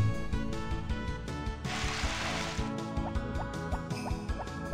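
Crops being watered in Harvest Moon: Back to Nature, a farming video game, with a soft dripping, pouring splash from the watering can over steady background game music.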